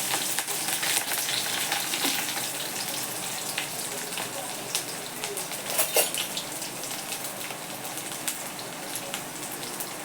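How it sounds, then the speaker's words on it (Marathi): Cumin, crushed ginger-garlic and curry leaves sizzle in hot oil with mustard seeds for kadhi, a loud, dense crackling hiss with sharp pops, close by and continuous. "जिरं घालते आणि आलं आणि लसूण वेगळं चेचलं होतं ते घालते बघा कढीपत्ता घालते"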